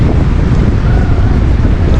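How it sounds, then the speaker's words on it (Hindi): High tide waves and strong wind at Goa beach: a loud, steady roar of wind buffeting the microphone over rumbling surf for a couple of seconds, with no voices. "हाई टाइड्स आ रही है यहाँ पे"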